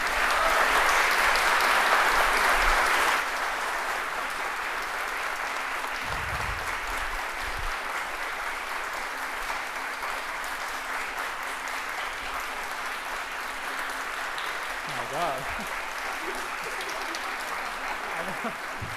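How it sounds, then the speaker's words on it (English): Audience applause for student panelists at a facility opening, a loud burst of clapping that eases to a quieter sustained patter over about nineteen seconds. "Can I get a round of applause for them?"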